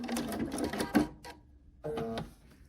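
Domestic sewing machine stitching a quilt seam on a quarter-square triangle block, running in quick rattling bursts with a brief pause at the seam before starting again, close and moderately loud.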